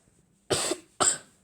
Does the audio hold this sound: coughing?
yes